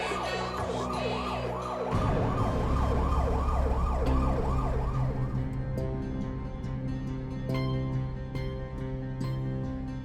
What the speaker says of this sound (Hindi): एम्बुलेंस की आवाज।